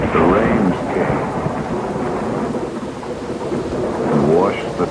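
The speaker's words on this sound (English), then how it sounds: "But the rains came" Heavy rainstorm with thunder: a dense, steady roar of rain with deep rolling rumbles swelling near the start and again toward the end, loud and close, with no voices.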